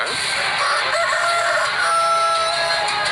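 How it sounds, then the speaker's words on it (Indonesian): A rooster crows loudly and repeatedly at sunrise over a busy background, its drawn-out calls overlapping with other fowl. "Saat terbitnya matahari juga banyak terdengar ayam berkokok."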